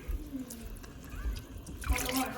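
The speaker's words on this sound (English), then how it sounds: "I'm gonna add just a little more water and let it simmer now." Water is poured into a simmering saffron and turmeric dish on the stove, making a soft trickle and splash under a low background hum, faint and close.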